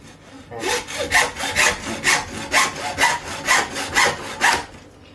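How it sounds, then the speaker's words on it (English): A hacksaw rasps back and forth through beef rib bone in about nine steady, even strokes, loud and close with no voices. "So we'll get the hacksaw"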